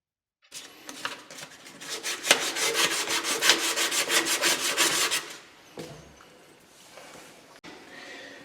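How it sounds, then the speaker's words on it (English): Sandpaper rubbing briskly back and forth over pipe ends, a rapid run of rasping strokes, fairly close, then slower scattered scrapes trailing off. "Just change angles of the sandpaper and clean off those ends for about 1 inch on each pipe."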